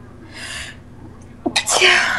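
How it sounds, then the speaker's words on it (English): A man sneezes indoors, a short burst followed by a second, louder and noisier sneeze, close to the microphone with a faint wail-like tone before it. "I'm gonna sneeze again."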